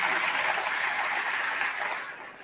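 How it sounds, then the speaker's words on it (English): Audience at the Macon, Georgia State of the Community Address breaks into a dense, loud round of applause that carries on steadily and then begins to taper off near the end. "he deserves another round of applause for that"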